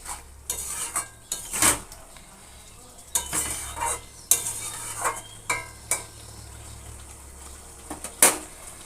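Pointed gourd and pre-fried raw banana being sautéed in a pan for a fish curry, with repeated scraping spatula strokes against metal and a soft sizzle underneath, close and irregular.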